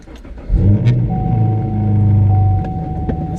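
A Chevrolet Camaro SS fitted with a catback exhaust starts up and settles into a deep, loud rumbling idle, with the exhaust note close and steady before trailing off.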